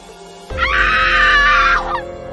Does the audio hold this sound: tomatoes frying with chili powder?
no